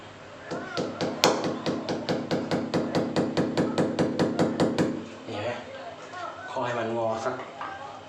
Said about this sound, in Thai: เราก็จะเคาะ